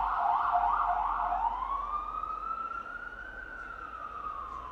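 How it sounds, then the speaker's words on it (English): A loud emergency vehicle siren wails in rapid yelps, then shifts to a long rising and falling tone as it passes by nearby in New York, with steady traffic rumble underneath. "there's a lot of sirens in the background now"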